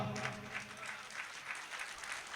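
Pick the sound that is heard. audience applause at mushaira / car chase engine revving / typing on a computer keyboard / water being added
audience applause at mushaira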